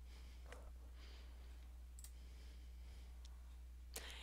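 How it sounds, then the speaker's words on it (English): A few sharp, faint mouse clicks on a Word Page Width zoom button, spaced irregularly over quiet room hiss with no talk. "I'll click the Page Width button."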